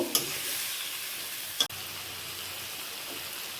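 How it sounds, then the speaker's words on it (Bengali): Continuous hiss of jackfruit and potato frying with spices in a pan, with a couple of sharp clinks from stirring; no talking. "মশলাও ভাজা হবে কাঁঠাল আলু একসাথে ভাজা হবে ভালো করে কষিয়ে নেব"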